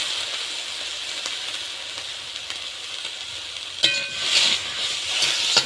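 Tomato and garlic lightly frying in a pan give a steady, close sizzle throughout, with a brief clatter and louder hissing bursts near the end as the food is moved.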